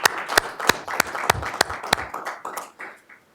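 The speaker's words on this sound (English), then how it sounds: "another round of applause for the work that you do." At a school board of education meeting, a small audience gives a brief round of applause, scattered sharp claps that thin out and fade to silence within a few seconds.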